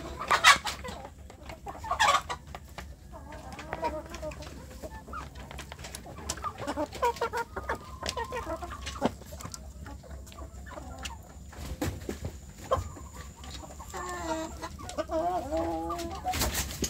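Young, nearly grown village chickens cluck and peep intermittently close by, with scattered short calls over a quiet outdoor background.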